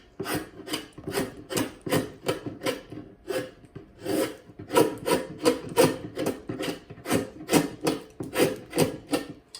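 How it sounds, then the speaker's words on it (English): Rhythmic rasping strokes of a hand tool hollowing out a wooden stool seat, about two per second, steady and close, with no talking. "Joseph is hollowing out this seat for his rocking stool today"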